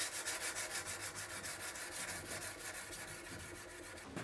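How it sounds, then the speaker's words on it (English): Hand sanding a stainless san-mai kitchen knife with fine sandpaper, a rapid steady rhythm of rasping strokes, close and fairly quiet, with no talking. "Now I'm going to hand sand."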